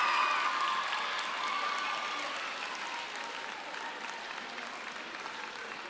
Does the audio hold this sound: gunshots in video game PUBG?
no